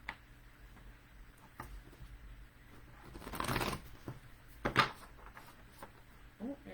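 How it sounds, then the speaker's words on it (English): Tarot cards being shuffled by hand, soft riffling and tapping that builds into a louder shuffle burst, then a sharp snap, heard fairly quietly in a calm room. "I will be shuffling, because I had already pre-shuffled, so you didn't have to hear this"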